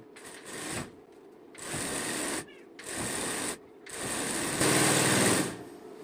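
A sewing machine stitches a foam strip onto salwar fabric in several loud, steady whirring runs, each a few seconds long, with short pauses between them.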